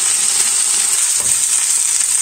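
Chicken breast frying in a pan for a sesame and peanut dish, a steady dense sizzle with constant bright hiss and no pauses, fairly loud and close throughout.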